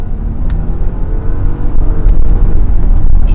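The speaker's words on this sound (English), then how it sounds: "Noise test of a very quiet car." A 2020 VW Touareg SUV engine hums low and steady in second gear at 30 mph, with a faint whir and a few brief clicks, no voices.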